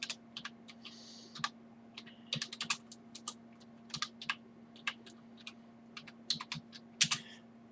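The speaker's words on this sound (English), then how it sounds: "just type in CryptoTab Browser" Rapid keystrokes on a computer keyboard come in uneven bursts of close, crisp clicks with short pauses between words, over a steady low hum and with no talking.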